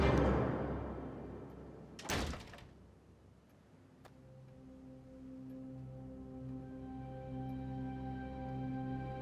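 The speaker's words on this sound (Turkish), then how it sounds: "Kapatın kapıyı." A door is shut with a single sharp slam partway through, followed by a lingering low ringing tone under a dim indoor room, with no talking.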